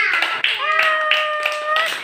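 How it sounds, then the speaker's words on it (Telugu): Children clap together in a classroom after a story, a short burst of quick hand claps heard beneath a sustained, singing-like voice. "క్లాప్స్ కొట్టండి ఒకసారి."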